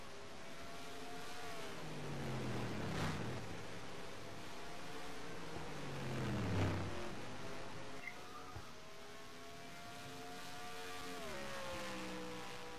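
Race cars in a racing video game at Edmonton sweep past with rising and falling engine whines, two clear passes and then a steady drone of several cars revving and shifting.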